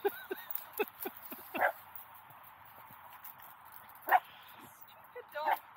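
A small dog aboard a narrowboat barks in short sharp yaps and whimpers, several quick barks scattered over a quiet background with a few louder close bursts.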